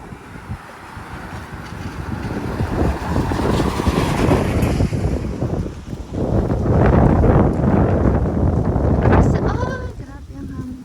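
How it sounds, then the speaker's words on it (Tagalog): Strong wind gusts loudly and continuously across an outdoor microphone, a heavy rumbling roar that swells and dips throughout. Faint sounds are buried beneath it. "Grabe ang hangin."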